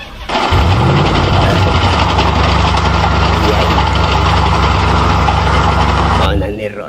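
A loud repaired engine with a fault starts and runs with a rough, steady idle rumble for several seconds, then cuts out; a voice talks over it.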